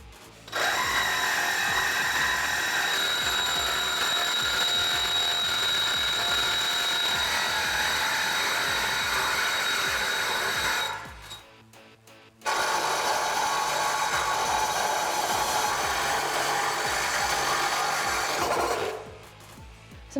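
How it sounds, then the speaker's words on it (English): Cutting the exhaust pipe of a 2018-2020 Mustang GT axle-back system at a marked spot: a steady, loud rasping cut runs for about ten seconds, pauses briefly, then resumes for several more seconds before stopping, with no talking. "Now at this point, you can cut where you made your mark."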